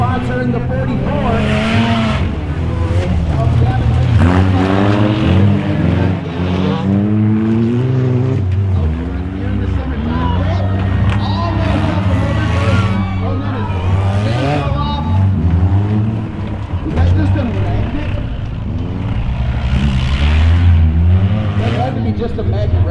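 Race cars on a frozen ice track, loud engines revving and surging in pitch with repeated passes and tire noise, continuous race commentary over the top.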